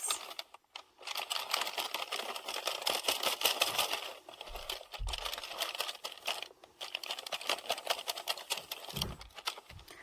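A domestic knitting machine carriage is pushed across the needle bed for the final rows, making a quiet, rapid rattling and clicking that runs in passes separated by short pauses.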